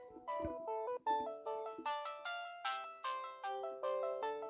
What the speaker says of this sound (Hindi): फ़ोन आ गया देख लीजिए फोन आ रहा है